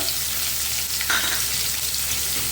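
Onions frying in hot oil alongside lentils and spices for a sweet potato curry, a steady close sizzle throughout with no talk.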